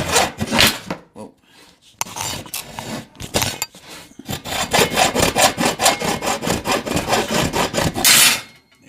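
Hand plane pushed along wood after a coating of Plane Magic tool lube, giving repeated close, rasping shaving strokes in quick rhythmic bursts with a few short pauses.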